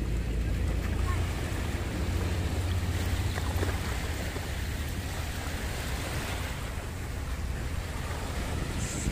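Waves wash along the Manila Bay shoreline in a broad, continuous surf roar mixed with wind buffeting the microphone, loud and close, with faint voices in the background.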